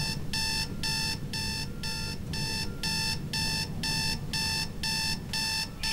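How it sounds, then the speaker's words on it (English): An alarm clock in the Dead Space 2 video game rings in a fast, regular electronic beeping pattern, loud and continuous, pulsing in short bursts over a low rumbling game ambience. "I hate those annoying alarm clocks."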